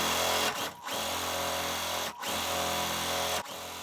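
A sewing machine pieces quilt block segments, running in a loud, steady, close whir that stops briefly three times between short seams, with no talking.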